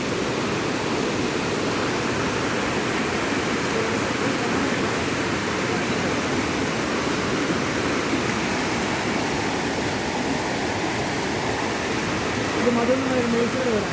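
Floodwater pouring into a flooded house, a steady loud rushing roar like a waterfall that stays constant throughout, with a faint voice near the end.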